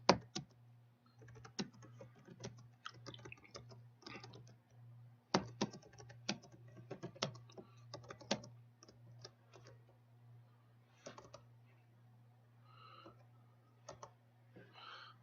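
Computer keyboard typing code, irregular bursts of close crisp key clicks with pauses between, over a low steady electrical hum.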